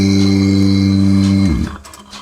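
A dairy cow lets out a loud, close, sustained moo during milking, lasting about a second and a half before it breaks off into quieter barn noise.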